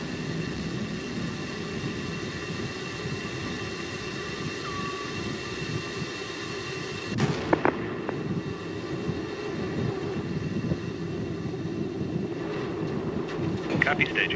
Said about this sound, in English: Booster officer confirms staging, a good solid rocket booster separation